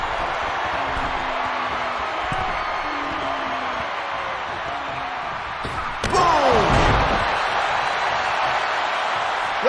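Large WWE arena crowd at a Demon Finn Balor versus The Undertaker championship match, a steady roar of cheering that swells after a sharp slam-like impact midway, with brief whoops.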